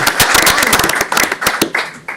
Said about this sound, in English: Everybody likes a round of applause sometimes.